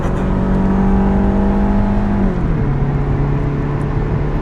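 The turbocharged engine of a Japan-only Mitsubishi Evo wagon revs loud and close, holding a steady high drone that drops in pitch partway through and then settles.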